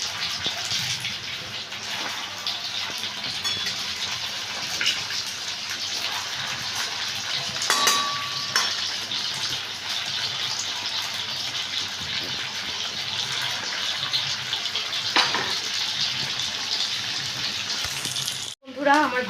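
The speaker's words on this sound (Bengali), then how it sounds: "এবার আমি তেলের মধ্যে দেখুন এগুলোকে ছেড়ে দিচ্ছি। এগুলোকে আমি একটু লাল লাল করে ভেজে নেব।" Chhena kofta balls fry in hot oil, giving a steady, hissing sizzle that runs evenly for about twenty seconds, with a sudden brief drop near the end.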